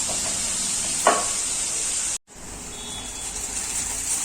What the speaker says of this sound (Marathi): जोरदार असं म्हणजे आईने फोडणी केलेली आहे असं म्हणायला हरकत नाहीये.